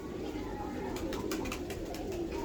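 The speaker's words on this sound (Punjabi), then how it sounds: "ਇਹ ਹੀ ਉਹ ਕਬੂਤਰ।" Pigeon kept for breeding and flying softly cooing close by, a few low repeated coos over a quiet background with faint voices.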